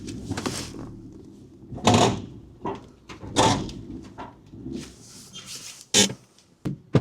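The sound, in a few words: Fiat 500 car door handle operated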